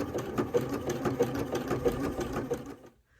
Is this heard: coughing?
no